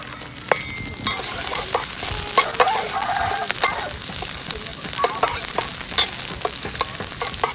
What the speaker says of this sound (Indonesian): Kita goreng kita punya bawang. Tumis bawang ni dulu.